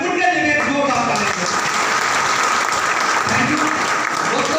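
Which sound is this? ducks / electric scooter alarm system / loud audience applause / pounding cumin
loud audience applause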